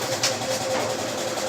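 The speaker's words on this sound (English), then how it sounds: "noise you hear in the back is my washing machine" A home washing machine runs in the background, a steady broadband churning hum with a faint tonal whine, continuous and fairly close, with no talk over it.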